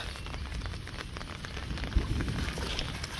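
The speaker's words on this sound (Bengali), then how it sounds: "ছিটাফোটা বৃষ্টি ভাব" Light village drizzle pattering steadily on surfaces, a dense continuous hiss close by, with no voices.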